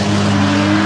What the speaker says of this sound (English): all the LS noise is from Mr. Ryan Burgess and Arunas chasing him down